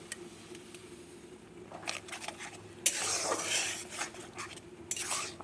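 Soft scraping and clinking as orange paste made without the peel is added to a wok and stirred, with a louder burst of scraping midway, fairly close but low in level.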